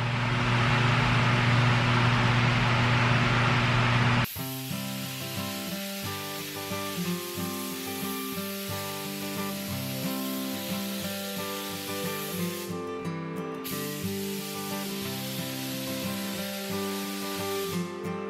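A spray gun lays Awlgrip paint onto boat hatch covers: a steady, loud hiss of atomized paint runs for about four seconds and then cuts off, followed by background music.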